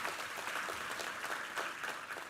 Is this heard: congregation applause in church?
yes